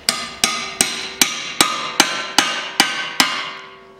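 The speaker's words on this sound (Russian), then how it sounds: "Беру зубило, здесь вот флажок направляющий на стойке, над этим флажком вот так вот забиваю." Nine evenly spaced, loud metallic strikes of a hammer on a chisel driven into the guide tab of a front strut on a 2007 Volkswagen Passat B6 2.0, each ringing out briefly before the next blow.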